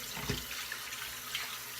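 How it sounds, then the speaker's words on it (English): Cold tap water runs steadily from a faucet into a bathroom sink as it fills, a continuous close splashing hiss with small bubbling fluctuations and no talk. "We got to fill the sink back up."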